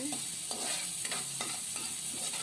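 Garlic, onion and ginger sizzle in a hot oiled pan while a utensil stirs them, close rhythmic scraping strokes about every half second over a steady frying hiss.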